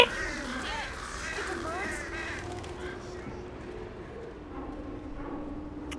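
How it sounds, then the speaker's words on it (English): Crows caw in the video game Left 4 Dead, several harsh calls in the first couple of seconds, fairly faint under game noise, with people talking over them. "usually the birds are supposed to alert a horde"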